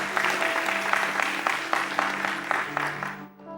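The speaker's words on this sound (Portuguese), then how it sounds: "Vamos aplaudir ao Senhor." A church congregation claps in a steady, rhythmic beat for several seconds, with sustained organ or keyboard tones underneath, before the applause fades out at the end.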